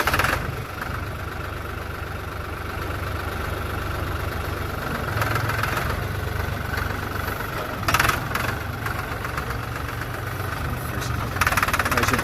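A 2005 New Holland TN60A tractor engine runs steadily nearby with a low, rough knocking drone, rising slightly in places as gears are changed, with no speech.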